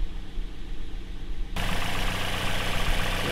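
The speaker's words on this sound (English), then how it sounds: "So it's idling" A Toyota Yaris engine fitted with a swapped 1ZZ throttle body idles steadily close by, a continuous low hum that grows louder partway through, with no talking.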